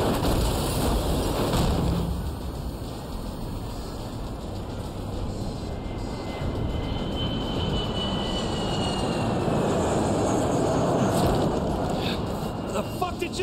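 An airplane engine in Saints Row The Third Remastered drones steadily throughout, a broad, continuous roar with a faint whine above it, with talk underneath.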